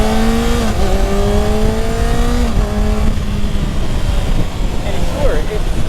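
2021 Kawasaki Ninja ZX-6R 636 motorcycle engine running steadily, with its pitch rising and falling through revs, a continuous near drone.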